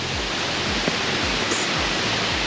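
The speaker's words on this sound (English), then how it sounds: "There's a waterfall in here and it's just a lovely green space." A waterfall in the Tbilisi Botanical Gardens, Georgia, gives a loud, steady, close rushing roar of falling water that fills the whole moment without a break.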